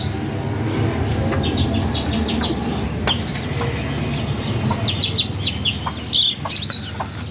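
Domestic ducklings and a native chick on a small rooftop farm make soft, scattered peeping and clucking calls close by over a steady background hum.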